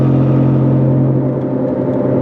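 A 2003 Saturn Vue AWD cruises down the road at 50 mph, giving a steady, loud, unbroken drone of engine and tire rumble that holds even throughout.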